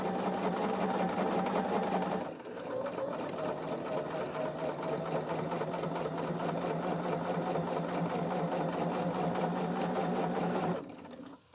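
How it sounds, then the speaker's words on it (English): A sewing machine stitching a quilt block runs in a loud, steady mechanical hum with rapid needle clatter, briefly dipping in pitch near the start, then stopping abruptly at the end. "I'm just watching that thread run on out."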